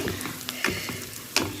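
Onion, ginger, garlic and spices fry in oil over a medium-high flame for a chicken dish, giving a steady close sizzle with a few sharp pops and crackles and no talking.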